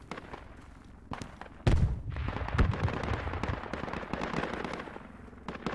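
Gunfire and blasts in the military shooter game Project Reality during a spec ops mission, with a sharp shot early, then a heavy booming report followed by rumbling, crackling bursts that continue to the end.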